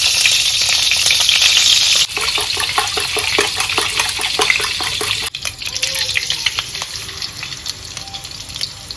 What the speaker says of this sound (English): add some coconut oil to the pan and start frying our eggs.